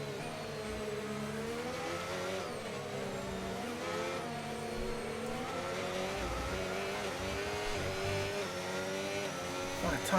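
F1 car in the F1 25 racing game at Mexico's stadium section, tyres struggling for grip, its engine screaming steadily and rising and falling in pitch through gear changes, loud and continuous for the whole stretch.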